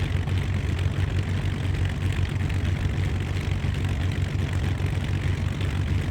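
A Beechcraft Baron 58 twin piston-propeller plane in the X-Plane flight simulator rolls down the runway for takeoff, its engines droning as a constant, loud, low hum without a break.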